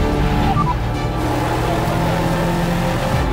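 Onboard sound of a EuroNASCAR stock car lapping the Vallelunga circuit, a loud steady engine drone with layered harmonics holding a near-constant pitch throughout, no speech.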